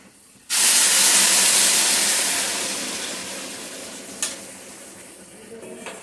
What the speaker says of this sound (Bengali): জলটা দিয়ে দিচ্ছি, জলটা আমার একদম মাপা আছে